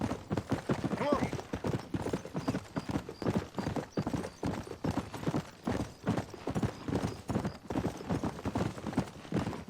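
Horse hooves clip-clop in a steady, even rhythm while riding through countryside in the video game Red Dead Redemption, close and continuous, with people talking over the hoofbeats.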